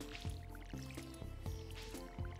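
Watering can splashing plants in Stardew Valley, a soft repeated liquid squish roughly every three-quarters of a second over gentle game music, quiet and close.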